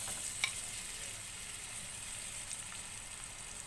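Spices fry in a pan before raw mango pieces go in for a tangy mango chutney, giving a faint, even sizzle with a single small tap near the start.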